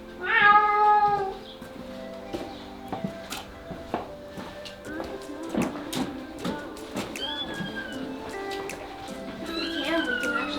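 A cat in a barn meows several times, one loud call near the start and then quieter, scattered meows, with people talking nearby and occasional light clatter.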